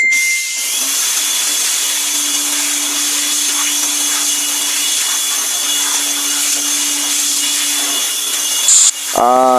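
A pressurized air blower cleans a computer with a loud, steady rushing hiss and whine that runs for about nine seconds, then cuts off abruptly with a brief tonal sweep at the end.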